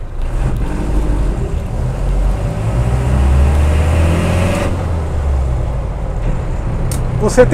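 A small, rustic car cruising in fifth gear, with a steady low engine drone and road rumble running throughout, carried under a continuous wash of wind noise.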